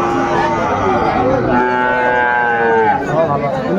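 A Friesian bull calf at a busy cattle market in Khulna lets out one long, loud, drawn-out moo close by, with faint crowd murmur behind it.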